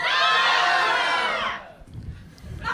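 A whole crowd screams and shouts as people stream out of a sound stage and pass by, a loud, dense burst of voices for about a second and a half before it thins into low rumbling thuds and scattered noise.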